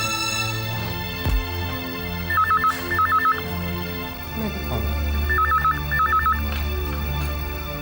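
A telephone rings in two clear double-burst patterns, loud and close, set against a background music bed in a Hindi TV drama scene.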